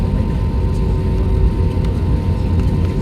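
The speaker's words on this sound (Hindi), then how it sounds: "हवाई जहाज़ टैक्स आउट हो रहे हैं, बिल्कुल रनवे के एंड पे जाएंगे।" Airplanes taxiing out to the end of an airport runway, a loud, steady, broad engine rumble with a low roar and constant hiss, close by and unbroken.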